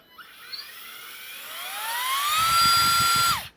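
A power drill set to anchor-and-screw drilling mode whines as its motor spins up gradually, its pitch rising steadily to a high sustained whir before cutting off, with a low rumble underneath near the end.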